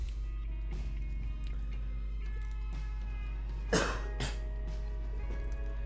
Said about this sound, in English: I was like, oh my gosh, I need a cough.